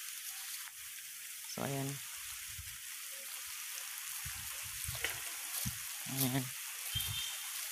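Steady rain pours down in a rural farming area in the Philippines after a week of heavy downpours, a continuous hiss running throughout while someone talks over it at intervals.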